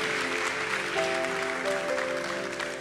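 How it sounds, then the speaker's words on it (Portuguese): A church congregation at a worship conference claps together in sustained, dense applause, heard at moderate distance with a faint tonal hum behind it. "Você pode dar um glória a Deus, aplaudir o Senhor e ficar de pé comigo?"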